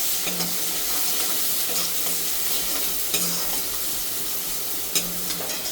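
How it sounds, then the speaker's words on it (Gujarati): Green onion and turmeric sautéing in a hot pan, a steady close sizzle with a few brief stirring scrapes running through the whole stretch, no voices. "હળદર નાખી દેશું આપણે લીલી ડુંગળી લીધી છે એ નાખી દઈશું અને કસડાવી લઈશું"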